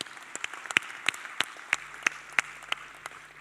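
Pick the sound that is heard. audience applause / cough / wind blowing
audience applause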